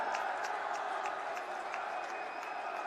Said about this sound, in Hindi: तालियों के साथ में सभी अपने स्थान पर खड़े होकर जोरदार स्वागत और अभिनंदन करें